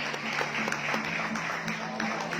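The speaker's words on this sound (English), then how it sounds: "Let's give our sponsors a big round of applause, please." Steady applause from an audience at a pageant press presentation, dense continuous clapping with a faint hum underneath, at moderate distance.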